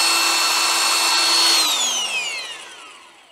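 A 3/4-inch cordless impact wrench whines at high speed close up, then its pitch slides down as it spins down and fades.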